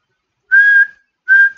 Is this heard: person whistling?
yes